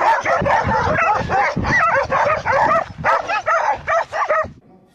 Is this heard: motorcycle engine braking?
no